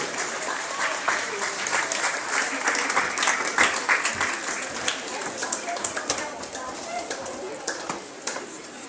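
An audience at a Tamil New Year celebration in Saint-Denis applauds a folk dance, a sustained crowd of clapping hands with sharper individual claps popping through, steady and fairly close for the whole stretch, with voices mixed in.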